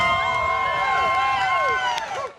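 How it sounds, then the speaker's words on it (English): A throng of onlookers in downtown Seaforth, Canada, cheers as a tractor embedded in a building is pulled free: steady crowd noise with rising, whooping voices layered across the whole stretch, loud and close. "A cheer from an assembled throng of onlookers greets the removal of a tractor embedded in a building"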